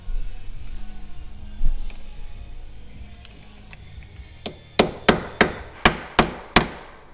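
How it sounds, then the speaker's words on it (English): A hammer punching a nut during a GTE Engineering PEGA clutch install on a Ferrari F430, a run of six sharp metallic strikes in quick, even rhythm following softer shop clatter and some brief low voices, close and loud. "It's fun getting to use a hammer on a Ferrari."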